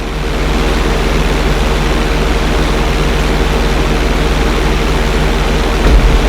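A plane in the GTA V flight school climbs with a loud, steady, droning engine roar that stays constant throughout, with a slight swell near the end.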